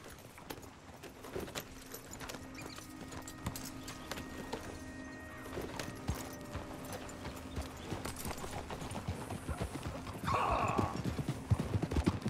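Horses trot along a trail in the Western video game Red Dead Redemption 2, hooves clip-clopping in a steady rhythm under jangling tack and a soft outdoor bed, with a brief whinny near the end.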